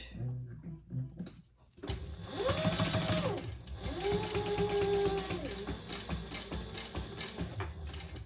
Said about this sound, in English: now we're just going to top stitch.